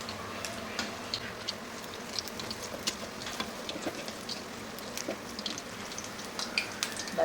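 Bajji pieces frying in hot oil in a pan, a steady soft crackle and sizzle with scattered small pops running throughout, fairly quiet and close, with no voices.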